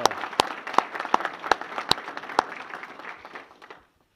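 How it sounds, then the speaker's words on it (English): Steady audience applause fills the room at a Racers football introductory press conference, a dense wash of clapping with a few sharp louder claps, trailing off before falling silent near the end. "Give yourself a round of applause as well."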